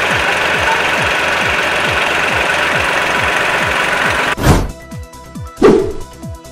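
A tractor engine pumps floodwater out of a flooded store, chugging with a loud, steady, rapid knock that continues without a break and is then interrupted by two heavy clattering thumps.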